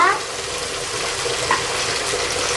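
Ginger and garlic paste frying in a pan for a tomato chicken curry, a steady sizzle with a faint stirring scrape, close and alone.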